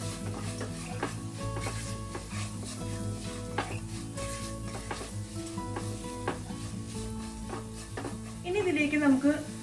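Grated coconut roasting in a pan for Kerala egg rice, a steady close sizzle with repeated stirring and scraping clicks throughout, with a brief stronger sizzle and a faint voice near the end.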